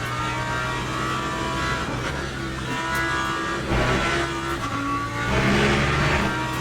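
A race car laps the Le Mans circuit in the sim racing game Le Mans Ultimate, its engine droning loud and steady with rising revs and shifting pitch.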